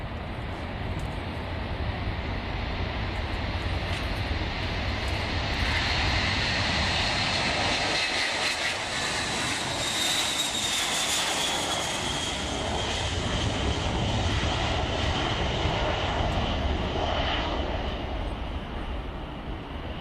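Roaring engines of a C-17 military transport aircraft, a loud steady broadband jet rumble and whine that holds for about twenty seconds, swelling slightly in the middle, with no voices.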